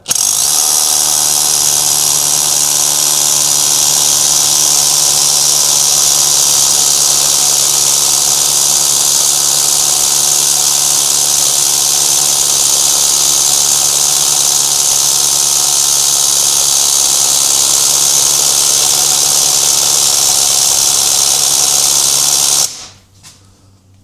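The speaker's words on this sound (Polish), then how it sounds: "sprzęgiełko przydałoby się ustawić na wiercenie i włączymy sobie kickback" A Bosch EXPERT EXSR18V-90FC cordless drill, its clutch set to drilling mode with kickback control on, whines loud and close for about 23 seconds. The steady motor tone holds without a break and then cuts off at the end.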